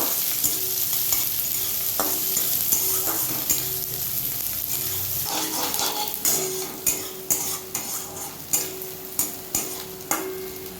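Chopped onion and green chili frying lightly in white oil for onion upma, with a steady sizzle, then a run of rhythmic spatula scrapes and taps against the pan growing louder toward the end, close by, with no speech.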